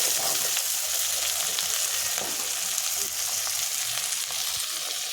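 Pieces of fried pangas and tengra fish sizzle as they go into well-cooked spice paste, a steady, close hiss of frying with occasional soft stirring clatter and no talk.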